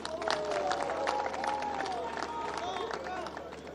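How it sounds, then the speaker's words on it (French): A crowd claps and cheers in a steady wash of applause at a university infrastructure inauguration ceremony in Kananga, somewhat distant, with voices mingling through the noise. "Applaudissements, s'il vous plaît."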